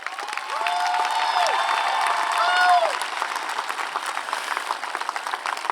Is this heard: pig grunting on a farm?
no